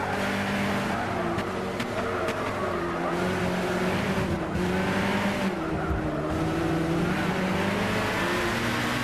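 A Nissan Zytek LMP2 prototype race car at Le Mans in Gran Turismo 6 drones steadily at high revs, with engine pitch rising and falling through gear changes and tire noise, loud and continuous with no talking.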